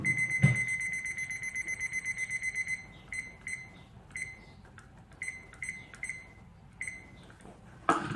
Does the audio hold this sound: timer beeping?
yes